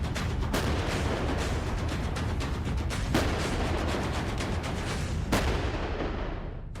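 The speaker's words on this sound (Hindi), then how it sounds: "पहली बार भारतीय सेना ने K9 वज्र तोप को एलएसी पर तैनात किया है।" A K9 Vajra self-propelled artillery gun fires while deployed at a forward army position along the Line of Actual Control. A loud, continuous roaring rumble is broken by a few sharp reports, with no voices.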